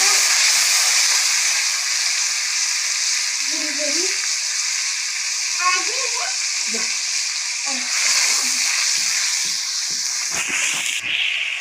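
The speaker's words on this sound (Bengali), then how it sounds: "আর আমি এই যে পেঁয়াজ রসুন সব আদা একবারে পেস্ট করে দিলাম, এটা দিয়ে দিলাম। এগুলো কষানো সুন্দর করে।" A paste of onion, garlic and ginger fries in a pan with a continuous loud sizzle and spatter, close by, while a voice speaks intermittently over it and stirring scrapes grow toward the end.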